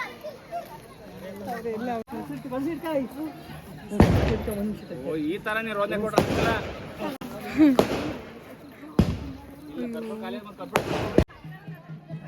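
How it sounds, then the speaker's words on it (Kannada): Several sharp firecracker bursts at irregular intervals, loud and close, with people talking throughout. "ಪಟಾಕಿ ಹೊಡಿತಾರೆ."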